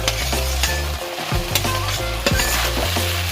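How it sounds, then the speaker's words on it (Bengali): Okra and potatoes frying in a pan, a loud steady sizzle broken by repeated stirring scrapes and spatula knocks, close up and without any talk. "ভেন্ডিগুলো কষাচ্ছি, এবার আলুগুলোও দিয়ে দিচ্ছি।"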